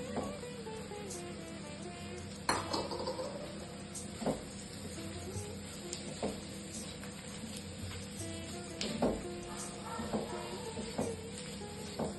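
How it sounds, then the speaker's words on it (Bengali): Crumbled hilsa fish roe stirred in a hot pan gives a low, continuous sizzle, broken by a few sharp scrapes and knocks of the spoon against the pan. "বেশ খানিকক্ষণ ধরে এটা নাড়ব যেন এটা ভালো করে রান্না হয়, সবার সাথে ভালো মেশে"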